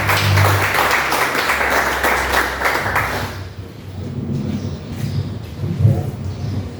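Church congregation clapping together to welcome the pastor, a dense wash of applause that fills the room for a few seconds, then fades and gives way to quiet murmuring and low rumbling room noise.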